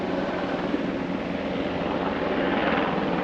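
A large helicopter passes overhead outdoors, heard as a steady, broad rotor and engine roar that holds level and swells slightly toward the end, with no speech.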